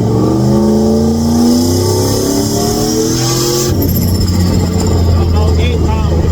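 A turbocharged Ford F150 with a roof-mounted turbo and a new engine, running on wastegate at about 8 psi of boost, revs hard through climbing gears then shifts and pulls again, loud and close inside the cab.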